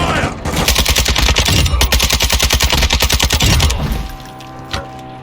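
Automatic gunfire in Call of Duty Warzone 2.0 DMZ: a loud, rapid, evenly paced burst of shots that runs for about three and a half seconds, then cuts off, followed by a single later crack.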